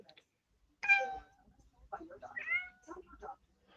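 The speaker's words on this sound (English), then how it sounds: "I hear your cat." A house cat meows loudly and insistently several times, with a long drawn-out cry followed by a run of shorter, chattering calls close to the microphone in a quiet room.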